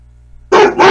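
A dog lets out two quick, loud, close barks after a moment of near silence.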